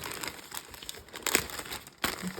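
A plastic bag crinkles and rustles close by in irregular bursts as it is handled while unboxing a Dreame D9 Max Gen 2 robot vacuum, with one sharper crackle midway.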